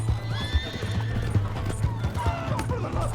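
Horse hooves clip-clop rapidly in Red Dead Redemption 2 gameplay, with whinnying and neighing over steady galloping; a voice or two briefly cuts in.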